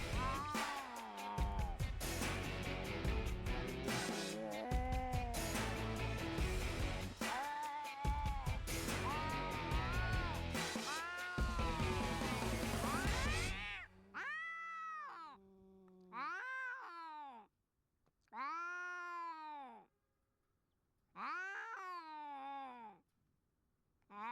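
Street cats fight with loud yowling caterwauls and drawn-out meows, first a dense, continuous screeching tangle, then separate wailing cries in bursts with short pauses between them.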